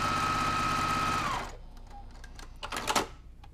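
Sewing machine stitching quilt block pieces with a steady, close whir for about a second and a half, then stopping, followed by faint handling clicks and fabric rustle.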